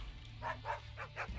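Dogs barking in the stealth game Assassin's Creed Chronicles: China, a quick run of four or five yaps about a fifth of a second apart, moderately loud over a low, steady game hum, with no speech.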